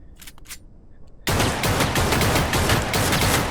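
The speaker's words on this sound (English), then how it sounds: "It's basically a sniper. Except you can hold it in your pocket." A sniper-like pistol in the VR shooter Opposer VR fires amid loud, dense bursts of gunfire that start abruptly after a quieter stretch of faint clicks, close and continuous with no talking.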